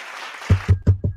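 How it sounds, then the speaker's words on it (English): Four quick, punchy clap sound effects fire in close succession on a livestream, each a sharp burst following a brief hiss. "I can do a clap."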